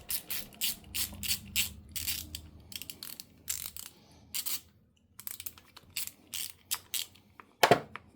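A ratchet wrench loosens a 10mm bolt on the timing chain guide of a Hyundai Veloster 1.6L turbo engine, giving close, quick bursts of clicking in irregular runs with short pauses and a sharp final clack.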